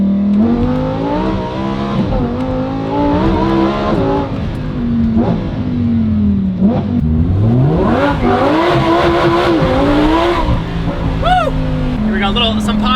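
Lamborghini Huracan STO with a titanium exhaust revving loudly and close, the engine note rising and falling with sharp pops and crackles near the end.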